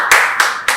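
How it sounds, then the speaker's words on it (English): Applause from an audience at a strategic zonal dialogue meeting: three sharp, evenly spaced bursts of hand claps, close and clear, with no talk. "Let's clap for them"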